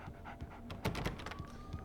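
Dog panting in the video game Alan Wake 2, quick rhythmic breaths close by and fairly quiet, with a faint whimpering tone toward the end.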